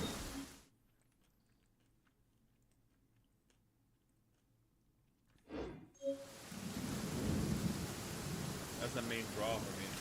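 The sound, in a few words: thunder in a video game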